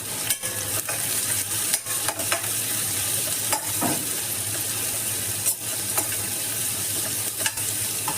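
Onions sauté in a pan for a mutton stew, giving a continuous close sizzle with repeated stirring scrapes and occasional light knocks from the spoon.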